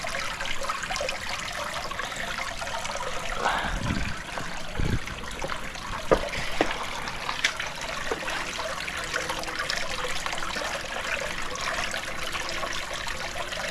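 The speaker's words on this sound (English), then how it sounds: "So you're going to notice I have a main waterfall here" A garden fish pond waterfall trickles and splashes in a steady, close wash of running water, with a few louder gurgles along the way.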